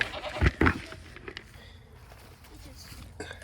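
Goats bleat in short bursts at feeding time on a farm, close and fairly loud near the start, with a person talking quietly between the calls.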